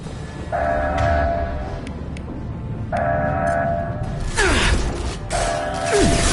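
Metal shutters closing in Mass Effect 2, repeated mechanical grinding and ratcheting bursts with sharp clanks, loud and close, several cycles in a row without any talk.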